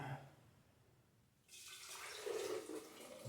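Freshly made celery juice pours through a funnel into a jar, a soft steady liquid rush that swells from near silence to a continuous close trickle and gurgle, with no voices.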